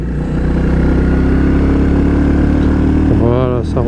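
A new Royal Enfield Bullet 350 motorcycle, still being run in, holds a steady loud engine drone as it picks up to cruising speed on a small country road, with a rising rev sweep near the end.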